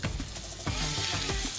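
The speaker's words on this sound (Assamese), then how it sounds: "টাৱাত দিয়াৰ পিছত অলপমান সিজিব দিব" Butter naan cooking on a hot tawa griddle, giving a steady close sizzle and hiss with a few faint scrapes and pops, no voices.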